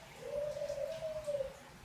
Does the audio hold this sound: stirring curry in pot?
no